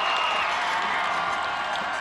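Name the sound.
crowd cheering at Royals parade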